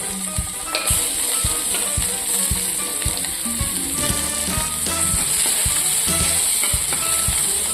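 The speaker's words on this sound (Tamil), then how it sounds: "உருளை வச்சு அப்புறம் நம்ம ஒட்டி வச்ச வெங்காயத்தை போட்டுக்கலாம்." Onions frying in a pan give a loud, steady sizzle throughout, broken by regular clicks and scrapes from stirring, with no talking.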